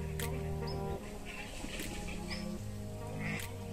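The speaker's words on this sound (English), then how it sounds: "It's a goose. But it's very noisy." A goose at a backcountry campsite gives repeated honking calls, moderately loud against a steady background hum, with several short calls spaced across the stretch.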